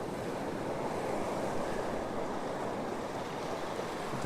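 Steady surf rolls in on the shore at Hervey Bay near sunset, a dense, even rush of breaking waves mixed with wind noise on the microphone, no one speaking.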